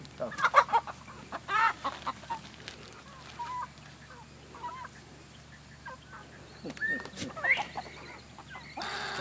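Chickens cluck in short, scattered bursts around a goat at sundown, close and moderately loud, with quiet gaps between calls.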